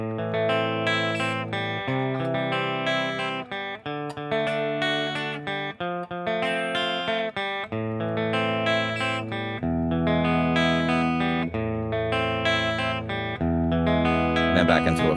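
A guitar strums a chord progression in a steady arpeggiated pattern, each chord ringing clearly and close for about fifteen seconds with no talking.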